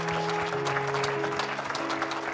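A church congregation claps in a sustained, dense round of applause, with sustained musical tones ringing underneath and faint voices mixed in.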